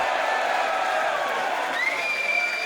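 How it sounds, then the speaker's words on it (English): A wrestling arena crowd roaring and cheering as a table is brought into the match, a steady broad wash of noise with whoops and whistles rising from the audience. "The crowd delighted with a table being brought into play"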